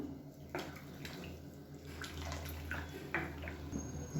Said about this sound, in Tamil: இப்போ இந்த சூடான தண்ணியை அதில் சேர்த்துக்கலாம்.